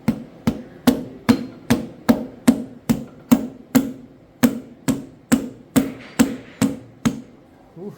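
A hammer taps a piston down into a cylinder of a John Deere 4020 engine during a rebuild, striking about fifteen sharp, close blows at a steady rhythm with no talking.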